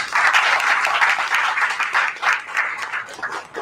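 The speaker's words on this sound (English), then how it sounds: "So please, give him a big round of applause." An audience at a municipal election candidates' event gives a loud, sustained round of applause for a candidate, with dense clapping that rises and dips slightly throughout.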